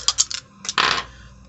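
Dice tumbling onto a hard surface: a few quick rattling clicks in succession, then a louder, longer clattering roll that settles and fades, close up with no talking.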